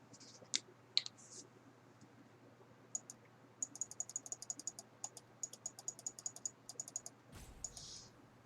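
Computer mouse clicks: sharp, quiet, dry clicks, a few scattered at first and then rapid runs of clicking at an uneven rhythm, over a faint low hum.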